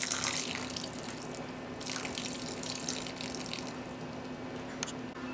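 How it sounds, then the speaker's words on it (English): Water poured steadily into olive oil brownie batter, a continuous splashing trickle close by that lasts throughout and eases slightly toward the end, with no voices. "I'm actually going to add about 1/4 cup of water."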